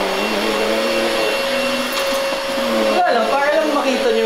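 A Deerma cordless vacuum cleaner runs close by with a steady high-pitched whine and airy roar, shifting pitch slightly near the end as it moves, with faint voices in the background.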